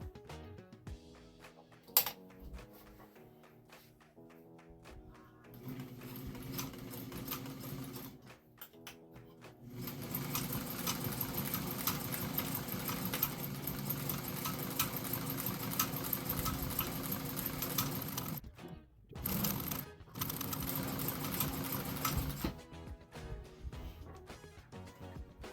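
A 1965 White Model 765 sewing machine, once seized with rust, runs a zigzag stitch, a steady close whirring hum after a stop-start beginning, with two brief pauses near the end and no talk.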